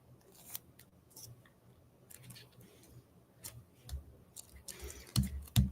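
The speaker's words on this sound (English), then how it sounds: "And then I'm going to take my scissors because it's easier and just trim off the excess." Scissors snip away the excess edges of a handmade greetings card, several crisp cuts closer to the end over a quiet room.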